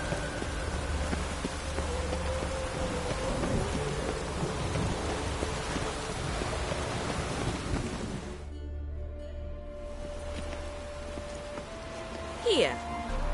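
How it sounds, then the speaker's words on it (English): Steady heavy rain with a low thunder rumble in the world of The Witcher 3: Wild Hunt, a continuous wash of downpour heard throughout, briefly thinning near the end. "Rain doesn't bother you, it seems."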